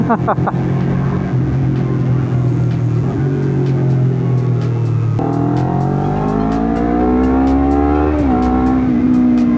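A Honda CBR250RR 249 cc motorcycle with a big-volume aftermarket exhaust drones loudly and steadily close by, its pitch rising and falling as the rider accelerates and eases off.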